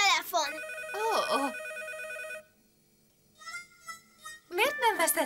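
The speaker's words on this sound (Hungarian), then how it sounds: "Anya, felhívtalak, és csöngött a telefon!" A telephone rings with bright, repeated electronic trills, separated by short pauses, while a voice speaks briefly in Hungarian in between; from a cartoon.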